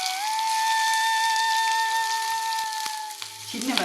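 Onions and curry leaves frying in hot oil in a pan for a jack nut roast, a steady close sizzle under a sustained tonal hum, ending in a brief clatter and a louder hiss near the end.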